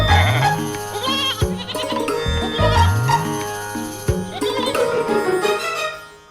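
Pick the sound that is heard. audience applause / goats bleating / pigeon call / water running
goats bleating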